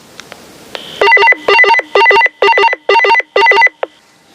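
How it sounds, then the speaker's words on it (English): Call tone from a GOCOM IPX4 waterproof walkie-talkie: a couple of soft clicks, then a loud, close electronic melody of rapid repeated beeping tone bursts in a steady rhythm, about seven pulses before it stops. "let me push the call button"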